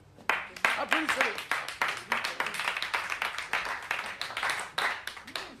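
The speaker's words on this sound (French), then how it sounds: "Applaudissez-le." Scattered clapping from a small group toasting a cycling champion in a film scene, individual claps distinct and uneven, with voices talking over them.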